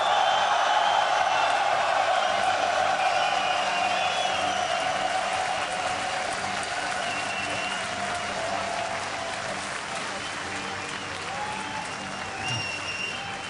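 A large esports arena crowd at a StarCraft 2 finals event cheers and applauds steadily and loudly throughout, a dense wash of clapping and shouting that eases slightly toward the end.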